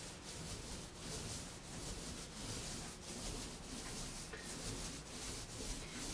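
A paint roller with a 1/2 inch nap rolls across a textured wall with a soft, rhythmic rubbing swish in repeated strokes, faint and close.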